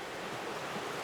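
Steady rushing flow of a clear, year-round river below Dartmouth Dam, a continuous broadband wash heard at a distance with a windy, noisy texture.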